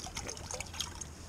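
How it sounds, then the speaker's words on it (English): Water poured into a container at an ice fishing camp, a faint, close trickle with small splashy drips over a low background rumble. "we got some water. Put some of that in there."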